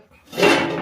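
A lid comes off a cooking pot of simmering fish curry with one short metallic scrape and clatter that rings briefly, close by and alone.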